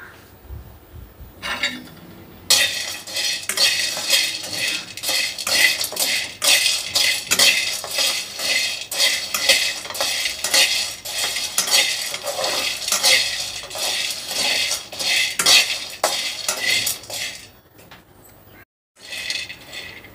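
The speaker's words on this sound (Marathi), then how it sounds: "एक वाटी सांडगे घेतलेले आहेत, मटकी आणि मुगाचे मिक्स सांडगे आहेत, ते आता आपण भाजून घेऊ." Mixed moth bean and mung lentil dumplings (sandge) dry-roasting in a pan, with a steady run of dry rattling and scraping as a utensil stirs them, loud and continuous for most of the clip, with brief quiet gaps at start and end.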